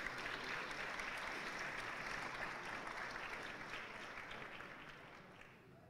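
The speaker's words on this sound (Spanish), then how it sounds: "Un fuerte aplauso, damas y caballeros." Strong, sustained applause from an audience at a Latin American Parliament assembly, a dense wash of clapping that holds steady for the whole stretch and eases slightly toward the end.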